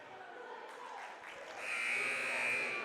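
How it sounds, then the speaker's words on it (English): A gymnasium buzzer at a varsity boys basketball game sounds as a sustained, loud steady tone for just over a second near the end, rising above the murmur of the crowd in the gym. "Buzzer sounds."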